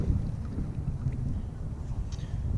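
Wind blows across a kayak during bass fishing in the Texas woodlands, a steady low rumbling buffet on the microphone with no pauses and no voices over it.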